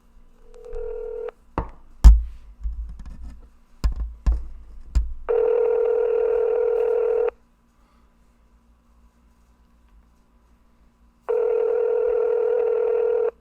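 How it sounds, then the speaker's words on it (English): A phone call being placed: a short burst of dial tone, then a quick series of loud keypad clicks and beeps as digits are pressed, followed by two long, steady ringback tones separated by a silent gap. "we need to make a phone call"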